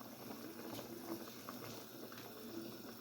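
Olive oil and sunflower oil pour into a pot for a traditional Moroccan roast chicken, a faint, continuous liquid trickle and bubbling at a moderate distance with no talking.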